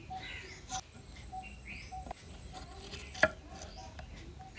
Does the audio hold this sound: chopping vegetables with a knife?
yes